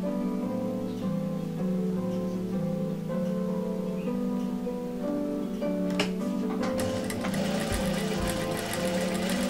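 Sewing machine stitching small patchwork fabric squares, with a steady whirring motor hum and rapid needle rhythm running continuously, growing brighter and more clattery toward the end.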